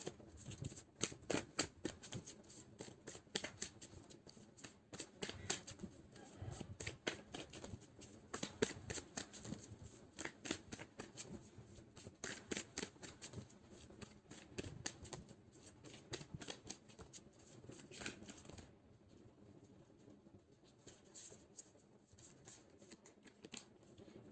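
A deck of tarot cards is shuffled over and over, giving a dense run of crisp riffling flutters and taps at close range, with the shuffling stopping near the end.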